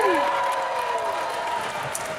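A live audience of Chuck fans at a Zachary Levi event applauds and lets out yips, a steady wash of clapping and cheering that fills the whole moment at moderate loudness.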